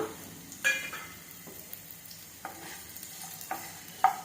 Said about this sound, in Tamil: வெங்காயம் லைட்டா வதங்கட்டும்